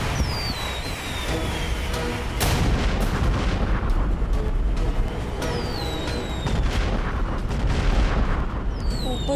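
Firecrackers explode in a dense, continuous barrage of loud cracks and booms, layered with whistling rockets and a brief voice.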